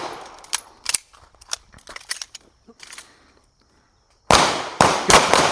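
Pistol shots ring out at a target during a shooting drill, first a scattered run of sharp cracks amid faint talk, then after a brief silence a louder, closer string of four rapid shots.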